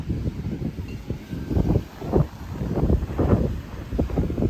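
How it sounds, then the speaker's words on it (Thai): Strong gusty wind buffets the microphone by the sea, a steady roaring rumble rising and falling with no voices. "ลมแรงมาก"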